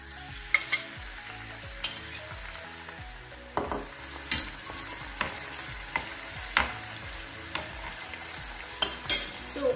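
Aloe vera frying in coconut oil in a pot on a gas stove, a steady close sizzle broken by regular spoon strokes and light metal clinks every second or so.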